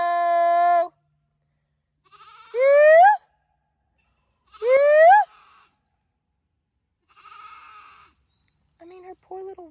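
A goat bleats in loud, wavering calls, three strong cries spread over several seconds followed by fainter ones, with a voice calling between them.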